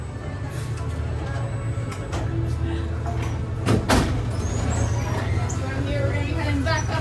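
The Red Car Trolley, a theme park streetcar, rumbles to a halt with a brief hiss and clunk as its doors open, under steady mechanical hum and nearby crowd chatter.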